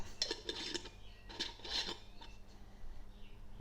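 A lid goes onto a small mini mason jar in a few light clinks and scrapes of metal against glass, close and quiet, with short pauses between the taps and no voices.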